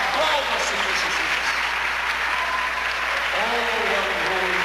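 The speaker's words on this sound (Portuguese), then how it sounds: "Aplauda, Senhor Jesus." A church congregation applauds steadily throughout, dense clapping filling the space with a faint voice underneath.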